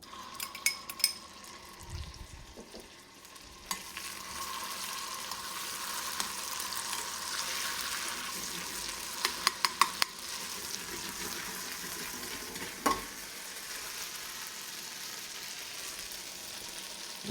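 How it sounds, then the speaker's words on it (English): Garlic sizzles in melted butter in a pan while oven roasted cabbage is being made, a steady soft frying hiss running throughout with a few faint clinks of a utensil near the start. "Okay, our butter is melted. Now I'm going to add our garlic."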